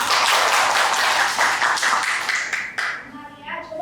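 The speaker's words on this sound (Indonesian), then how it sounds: "Tepuk tangan dulu buat Dwino." A university teaching-session audience claps for a participant in a brief burst of scattered hand claps that thins out and gives way to a voice near the end.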